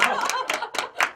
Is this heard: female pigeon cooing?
no